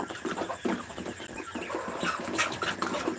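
Chickens on a small farm cluck in quick, overlapping bursts close by, a busy chorus of short calls with no talk.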